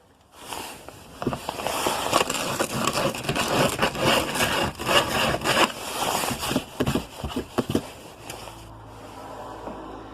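A metal file rasps out a small notch for the tab on an ATV water temperature gauge, with rapid close scraping strokes in an irregular rhythm that fade to quiet near the end.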